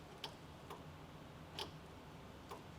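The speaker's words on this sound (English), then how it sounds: "And hear a solenoid ticking" A car solenoid ticks as random wires are probed with power: four sharp, isolated clicks spaced irregularly over a quiet background, close and clear with no talk.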